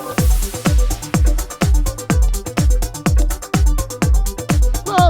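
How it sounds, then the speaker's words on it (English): Punchy kick-driven drum beat with bright repeating synth arpeggios washed in reverb, loud and continuous with no voices. "both of the arpeggios are now being fed reverb"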